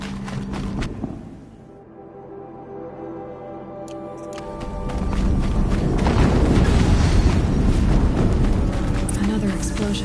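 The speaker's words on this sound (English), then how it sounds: "Explosion." A deep, rumbling explosion in the video game Horizon Zero Dawn swells about halfway through and stays as a loud, broad roar to the end, following a quieter stretch of game ambience.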